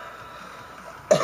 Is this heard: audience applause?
no